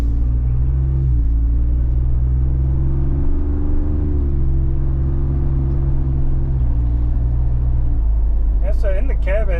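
Deep, steady engine rumble from a Ford Bronco with an aFe Power cat-back aftermarket exhaust, loud and close, running continuously with a slight rise in pitch near the end.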